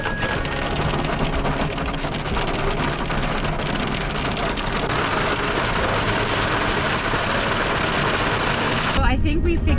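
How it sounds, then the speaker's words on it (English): Hail and rain pound hard and continuously on a vehicle roof during a storm in Colorado, a dense close clatter that stays loud throughout, with a voice talking underneath. "Now we got hail."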